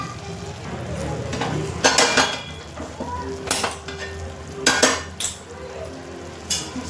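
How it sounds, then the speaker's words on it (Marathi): Whole onions roasting on an iron tava over a gas stove, a soft steady sizzle broken by several sharp metal clinks and scrapes of utensils at irregular intervals, no voices. "मी इकडे ना कांदे भाजून घेते मस्त तव्यावरती"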